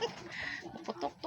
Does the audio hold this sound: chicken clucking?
yes